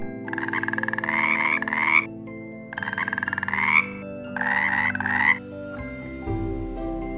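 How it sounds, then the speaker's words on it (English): A frog croaks in three long, rattling bursts, each a rapid buzzing pulse train that swells toward its end, loud and close over soft background music. "Frog."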